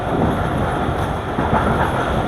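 Marvi Passenger train rolling through the Thar Desert, a steady, close rumble of wheels and carriages with a dense low roar that holds evenly throughout.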